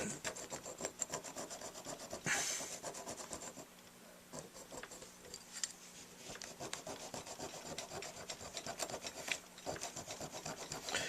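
A fine metal file rasps against a Dukoff D9 saxophone mouthpiece with repeated close back-and-forth strokes, quiet and steady, with no talking.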